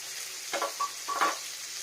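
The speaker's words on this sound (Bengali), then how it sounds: "পেঁয়াজটা ভাজা ভাজা" Onions frying in a pan, with a soft steady sizzle and a few louder bursts of stirring, close and without speech.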